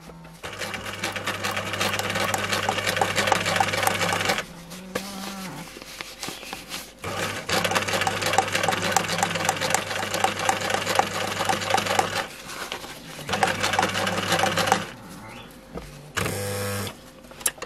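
Sewing machine stitching a seam along a fabric face mask runs in several long steady bursts with a rapid mechanical whir, separated by short pauses and quiet handling noises, close and loud.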